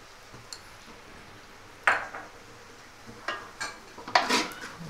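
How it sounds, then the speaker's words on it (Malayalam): Chicken with Kashmiri chilli powder and coriander powder being stirred in a pan for chicken thoran, heard as a few scattered scrapes and clinks of a spoon against metal over a quiet background, close by and without talking. "നല്ലപോലെ ഒന്ന് ഇളക്കി കൊടുക്കണം."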